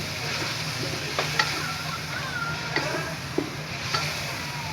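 Chicken sautéing in a pan with ginger and garlic, a steady close sizzle broken by occasional spoon scrapes and stirring knocks, with no talk over it.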